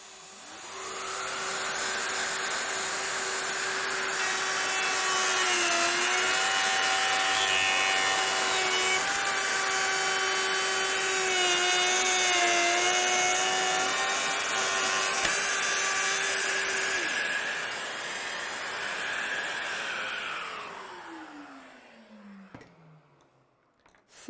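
A Festool OF 1010 router mills a rounded moulding into wood with a loud, steady high whine for about twenty seconds, its pitch dipping slightly under load before spinning down at the end.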